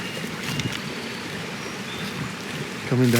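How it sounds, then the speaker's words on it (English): Rainwater escapes from mounded garden swales after a heavy downpour, a steady close trickling and running wash that holds evenly throughout, with a louder gush surging in at the very end. "the water's escaping there, leaking out, and really coming down"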